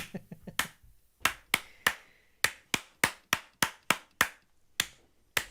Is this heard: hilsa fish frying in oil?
no